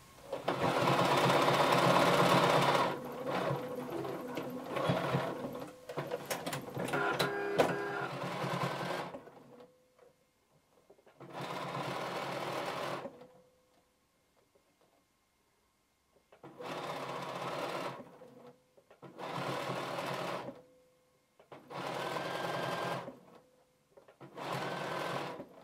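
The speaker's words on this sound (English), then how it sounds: "with this side of your presser foot aligned along the edge of your fabric, you're going to sew all the way around" A sewing machine stitches around the sleeve of a workout top in long, loud, steady runs, stopping and starting several times with short quiet gaps between bursts.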